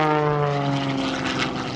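A propeller aerobatic airplane flies a slow roll along the show line at an airshow, its engine droning loud and close with a strong steady buzzing tone that slowly shifts in pitch.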